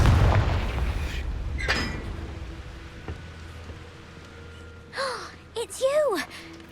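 A Confringo fire spell blasts off in Hogwarts Legacy, a loud booming impact at the start that trails off into rumble, followed later by a voice talking.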